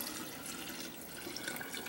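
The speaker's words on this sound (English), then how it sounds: "you're just going to pour this into your pitcher" Steady rush of sweet peppermint tea pouring into a pitcher, a continuous broadband splash running evenly for a couple of seconds with no voices.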